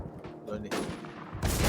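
Gunfire in the first-person shooter Warzone 2, fairly faint: a few scattered shots, then two louder bursts of rapid fire with a muffled game din and low voices underneath.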